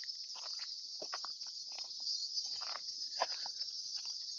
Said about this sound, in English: probably blocking out the cicadas, but they're noisy as shit today